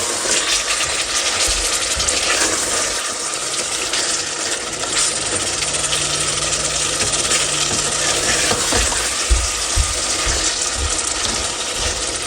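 Chicken pieces frying in oil in a pan give a loud, steady, dense sizzle. Occasional scraping and clicking from stirring sound close up, the sizzle continues without a break, and no one talks.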